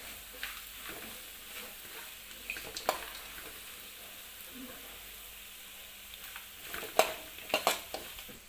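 Tamarind-leaf pulihora seasoning cooks gently in a little oil over a low simmering flame, giving a faint, steady hiss with occasional soft stirring clicks and small pops, quiet and close.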